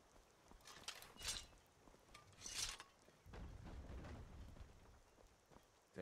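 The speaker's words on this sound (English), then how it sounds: "Great, it's raining." Rain falling in Skyrim Special Edition, a soft, low-level patter with a couple of brighter surges and faint rumbles underneath, quiet throughout.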